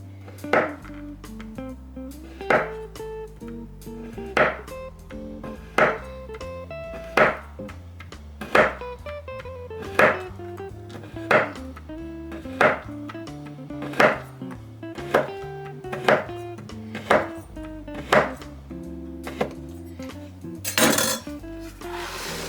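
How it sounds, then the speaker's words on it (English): A knife cutting Mars bars into thin slices on a board, a series of about fifteen sharp, evenly spaced chopping knocks over a low background of soft music. "I'm going to cut these bars into thin slices so we can put them on top of the chocolate"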